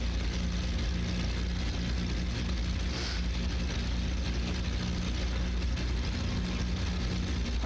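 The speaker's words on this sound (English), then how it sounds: "the sounds of the engines in particular in this airplane are tremendous" Steady engine drone from an airliner in Flight Simulator X over Puerto Rico, a continuous low rumble with a constant hum and no talk.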